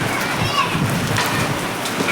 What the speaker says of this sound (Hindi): इतने तेज ओले गिर रहे।